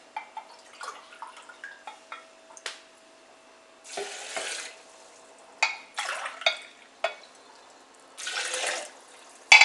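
Three glasses of shungite water are poured into a blender for raw cashew yogurt with pumpkin seeds, heard as splashing bursts of pouring between small clinks and taps of glass and kitchen handling, close and clear.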